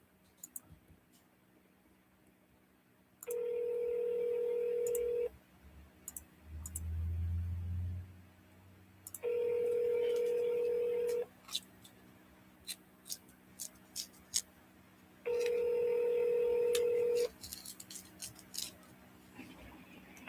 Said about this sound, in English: I'm calling Sheila.